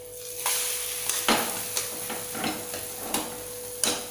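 Masala omelette frying in a pan on a low gas flame, a steady soft sizzle broken by a handful of sharp clinks and scrapes of a utensil against the pan, close and without talk.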